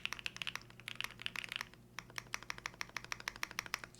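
Rapid keystrokes on a Theseus 75 split mechanical keyboard, close and crisp, clattering in an uneven typing rhythm with a short pause midway before the tapping resumes.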